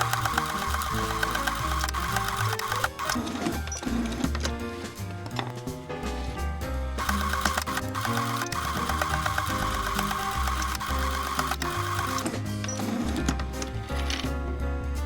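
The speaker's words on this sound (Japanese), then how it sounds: "反対側も同じ手順で縫います。" A sewing machine stitches along the other side of a reversible fabric tote bag, a loud, close, rapid mechanical whirr of needle strokes running almost continuously, with brief shifts in speed and a short pause partway.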